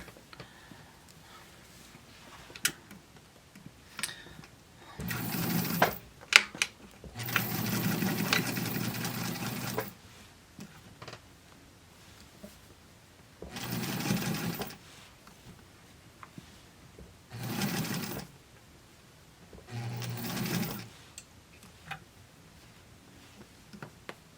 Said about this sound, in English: Let's get stitching.